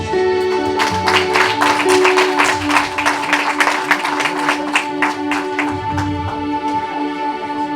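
A congregation at a celebration-of-life memorial service in Paris claps in a steady, rhythmic beat, the close, lively applause running over sustained music throughout.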